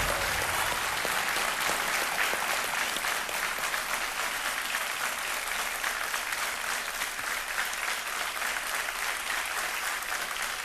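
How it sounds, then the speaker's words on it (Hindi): Studio audience on a Hindi quiz show (Kaun Banega Crorepati) applauds steadily and loudly after a contestant wins 3,20,000 rupees, a dense sustained clapping that holds evenly throughout with no talk. "तालियां बजते हैं इनके लिए"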